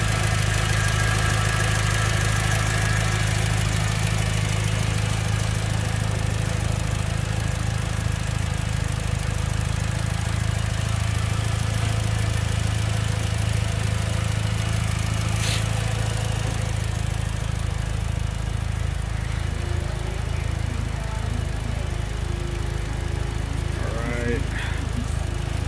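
A 2006 Mitsubishi Lancer Evolution IX MR engine idles steadily, giving a continuous low, even rumble that stays close and loud for the whole stretch.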